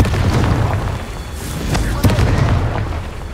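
Confringo fire spell explosions in the Hogwarts Legacy video game, a dense run of booming blasts and bursting pops that fills the whole clip with loud, continuous rumble.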